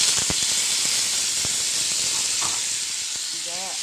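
Tomato and onion hitting a hot skillet for a stew: a loud, continuous steaming hiss and sizzle throughout, with a few clicks and a short stretch of speech near the end.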